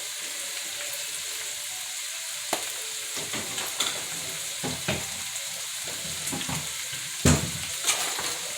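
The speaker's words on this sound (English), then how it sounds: "Okay, get that stirred in good." Seasoned meat with black pepper and garlic powder sizzles in a hot pan as a utensil stirs it, a steady frying hiss with scattered scrapes and clinks, one sharper knock near the end.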